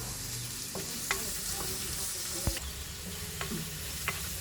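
Shallots, green chilies and coconut pieces sauté in a pan for a jackfruit-seed meat curry, a soft continuous sizzle broken by a few sharp clicks of a stirring spoon.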